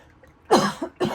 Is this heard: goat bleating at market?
no